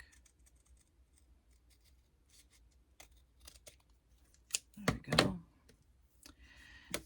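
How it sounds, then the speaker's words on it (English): Scissors trimming paper for a paperclip craft, heard as sparse soft snips and clicks that build to a few louder, close cuts near the middle, with quiet handling noise between them. "once we get that all straightened up, we can trim this side here real quick"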